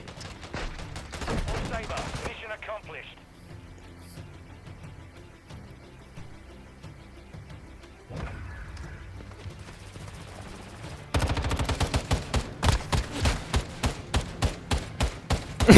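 Rapid gunfire in Call of Duty Warzone Mobile. Dense shots open the sequence, then quieter game sounds follow. Loud, evenly spaced bursts close it out, ending on a heavy final report.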